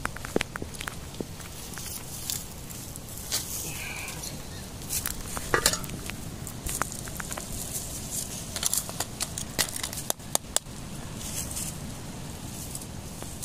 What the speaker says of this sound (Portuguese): Já tá chiando.